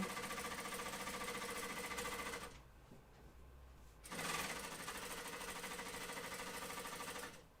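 A sewing machine top-stitches fabric for a flight suit, running in a steady rapid whir for two long stretches split by a brief pause, close and alone.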